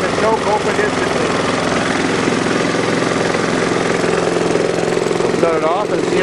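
A Briggs and Stratton small engine with an automatic choke runs loud and steady nearby, its droning chug going on throughout while a person talks over it.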